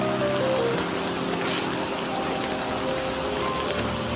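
Steady broadband patter of rain falls by the Namkan River near the Mekong in Luang Prabang, Laos, a constant wash of noise with a faint low hum beneath it.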